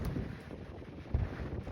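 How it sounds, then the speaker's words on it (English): Strong wind buffeting outside a mountain fire tower in the White Mountains of New Hampshire, a loud continuous rumble with a heavier gust near the middle. "It's so windy."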